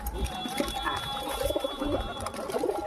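Soft, repeated pigeon coos murmur low beneath steady outdoor background noise, fairly close, with a faint whistle-like tone running through.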